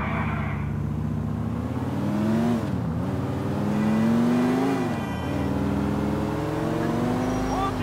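Car driving in Grand Theft Auto IV, a steady engine drone with rising and falling revs as it accelerates and shifts, continuous and fairly loud throughout.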